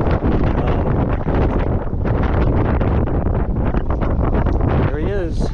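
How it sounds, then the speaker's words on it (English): Strong gusty wind, gusting to around 45 miles an hour, batters the microphone in a loud, continuous, buffeting roar from start to finish. "We're supposed to get like gusts up to 45 miles an hour today."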